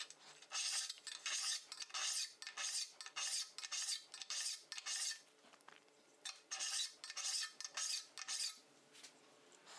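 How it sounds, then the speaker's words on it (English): Mill file rasping along a steel cabinet scraper blade held at 45 degrees in a jig, a rhythmic series of bright, gritty strokes repeating steadily, close and alone with no voice. "So to do this, I'm going to use a mill file."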